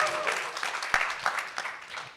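A live TrustCon 2024 conference audience gives a brief round of applause, with scattered individual claps popping out of a moderate, uneven patter.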